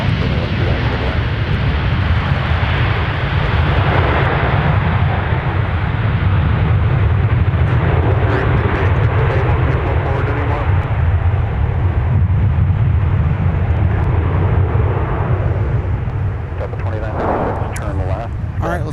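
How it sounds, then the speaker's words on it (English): A Delta Boeing 737 arrives at Minneapolis–St. Paul airport with a steady low jet roar that holds across the whole stretch, fairly distant and broad, while voices talk over it. "let's take another look at our inbound Delta 737 arrival"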